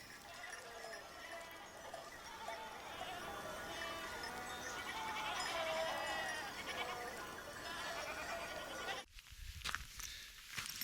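A flock of sheep and goats bleats repeatedly in overlapping calls at moderate distance in barren mountains of Mursi country, with an abrupt cut to fainter rustling and clatter near the end.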